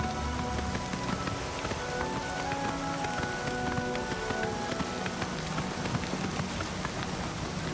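Steady rain patters on the ground in the game Oblivion, a dense, even wash of drops that stays constant throughout with no talk.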